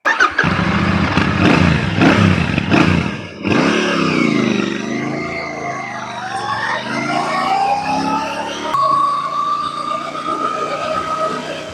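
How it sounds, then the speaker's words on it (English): A Royal Enfield Shotgun 650 motorcycle rides along with a steady engine drone, loud and close, with a sharp dip and shift in tone partway through as the revs change and a higher rising whine toward the end. "let's start riding this all new Royal Enfield Shotgun 650"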